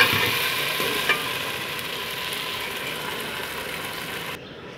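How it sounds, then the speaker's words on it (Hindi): Okra frying in a pan with yogurt added, a loud, steady close-up sizzle with occasional stirring scrapes that cuts off abruptly near the end. "सही है, भिंडी हमारी फ्राई हो गई।"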